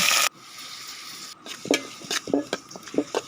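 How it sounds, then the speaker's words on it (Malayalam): Crushed ginger, garlic, onion and shallots being stirred in a hot pan for a tapioca biryani, with soft sizzling, a loud clatter at the start and repeated scraping and clinking of a spoon against the pan, close up. "ഇഞ്ചി വെളുത്തുള്ളി ചതച്ച് വെച്ചിരിക്കുന്നത് ചേർത്ത് സവാള കൊച്ചുള്ളി ഇവയെല്ലാം ചേർത്തിട്ട് വഴറ്റി"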